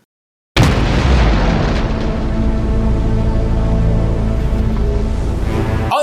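Anime explosion scene sound effect: a sudden loud blast after a brief silence, followed by a sustained roaring rumble that stays heavy and dense for several seconds.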